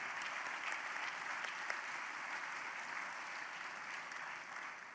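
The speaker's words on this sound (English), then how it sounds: "Let's give all of you a round of applause for your work that led us here." An audience at an education-advocacy speech gives sustained, even applause, a dense wash of clapping heard at a moderate distance throughout.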